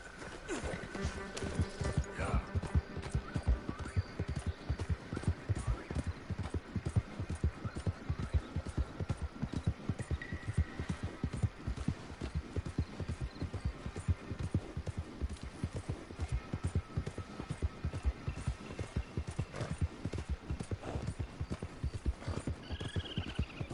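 Galloping horse hooves in the video game Red Dead Redemption 2, a steady fast clip-clop rhythm that runs loud and continuous throughout with no talk over it.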